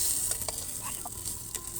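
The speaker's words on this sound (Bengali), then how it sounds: "দেখো এখানে নাড়া চলছে আর জালও হচ্ছে" Chicken liver frying in a pan and being stirred, giving a short, steady sizzle broken by a few soft scraping strokes. No voices.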